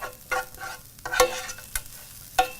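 Broccoli and onions being stirred with seasonings including black pepper, thyme and oregano in a pan, a few soft scraping strokes and clinks over a light sizzle, close and brief.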